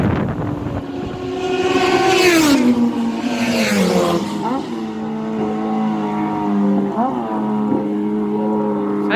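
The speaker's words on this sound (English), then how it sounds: "So we can just hear the sidecars coming around Governor's Bridge." Racing sidecars at the Manx Grand Prix on the Isle of Man round Governor's Bridge: loud, whining engine notes rise and fall in pitch as the outfits pass close by, one after another, with shifting overlapping tones.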